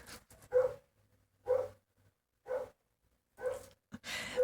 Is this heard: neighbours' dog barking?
yes